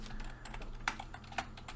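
Typing on a computer keyboard, a quick run of close, light key clicks with two sharper louder taps, steady and alone.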